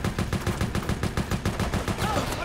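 Rapid bursts of automatic gunfire from the third-person shooter Resident Evil: Operation Raccoon City, loud and steady throughout with no talk over them.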